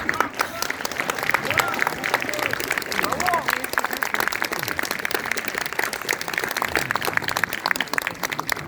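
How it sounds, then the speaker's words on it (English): An audience at a film presentation in St. Petersburg applauds the Pushpa film team, with dense, continuous clapping and crowd noise mixed with voices and cheers for the whole stretch. "Can we please give them a round of applause?"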